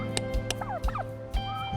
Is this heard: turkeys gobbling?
yes